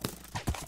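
Minecraft horse hooves thud in a brief run of two or three soft clip-clop beats, close and fairly quiet.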